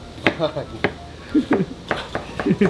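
An onion is chopped quickly with a knife on a board: sharp, uneven knocks come in fast clusters while people talk over them nearby.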